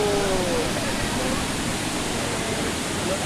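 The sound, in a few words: waterfall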